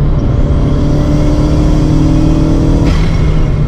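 A Chevrolet Celta engine revs loudly and steadily as it accelerates, a constant roaring drone with rising pitch, close and continuous throughout.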